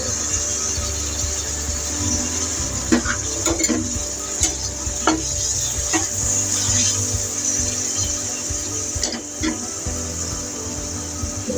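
Dried mola fish fries in oil with onion and garlic, a steady close sizzle with intermittent stirring scrapes and utensil taps against the pan throughout.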